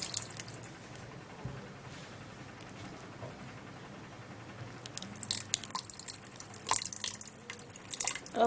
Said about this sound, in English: putting in a little bit of water guys.